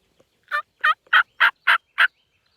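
A wild turkey gobbling during a late-season hunt in Tennessee, a series of six quick rattling calls in a row, clear and fairly close in otherwise quiet surroundings.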